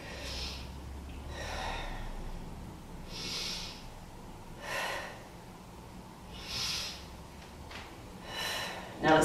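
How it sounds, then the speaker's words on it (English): Slow, deep breathing in a yoga plank pose, with soft airy inhales and exhales recurring every couple of seconds, close and fairly quiet, ending on a brief louder sound. "Let's take 3 breaths here."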